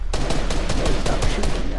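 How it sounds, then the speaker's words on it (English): Rapid automatic gunfire in Fortnite during the Travis Scott event, a dense, loud, steady burst of repeated shots filling the whole stretch with no pauses. "Stop shooting now."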